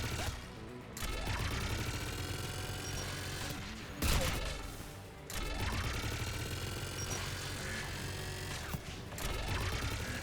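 Video game machine gun firing in long sustained bursts, with brief pauses between volleys, loud and mechanical against layered battle noise.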